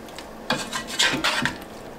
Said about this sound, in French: je vais déjà mélanger le miel pour qu'il se mette bien partout